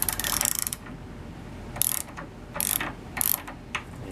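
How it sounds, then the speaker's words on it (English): An S-K 3870 Roto-Ratchet wrench clicks through its ratchet action up close, with a fast burst of pawl clicks first, then a pause, then several shorter spaced bursts of crisp metallic ticking. "now you can do the ratchet action"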